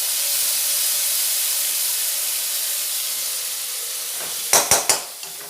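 A paste of dried red chillies, onion, ginger and garlic hisses steadily in a pan of frying onions while cooking prawn malai curry. Near the end, three sharp metallic clinks of a utensil against the pan break through the sizzle.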